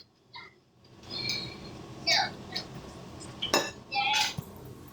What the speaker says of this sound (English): I am cutting up my potatoes